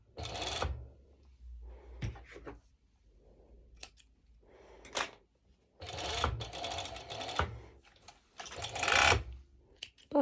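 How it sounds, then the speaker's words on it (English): A serger (overlock machine) runs in several short bursts as it stitches through four layers of knit fabric for a twisted knot skort, with quiet pauses between the runs; the machine is close and fairly loud. "I want to feel that I'm only serging over the 4 layers of fabric and not more"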